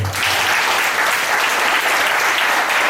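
A church congregation bursts into loud, dense applause acclaiming the Lord during a sermon, the clapping sustained and close throughout without voices.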